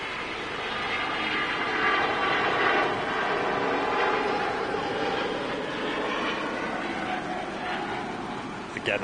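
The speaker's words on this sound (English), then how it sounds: "Really nasty growl to them Trent XWB engines from Rolls-Royce" A Singapore Airlines Airbus A350-900 powered by Rolls-Royce Trent XWB engines, roaring steadily at Manchester Airport, a broad sustained jet rumble with a gritty growl that holds loud for the whole stretch.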